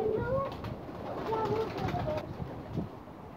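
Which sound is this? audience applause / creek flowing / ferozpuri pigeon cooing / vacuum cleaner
ferozpuri pigeon cooing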